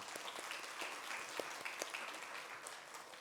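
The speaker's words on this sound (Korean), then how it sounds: "우리 박수하겠습니다" A church congregation gives the choir a round of applause after a hymn, the clapping faint and distant, a steady patter spread across the room with a few sharper claps standing out.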